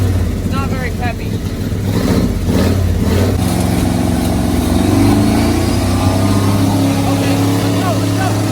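A 1979 Ford engine, grenaded and running on only seven cylinders, revs loud and close in steady rising and falling surges, with people talking over it.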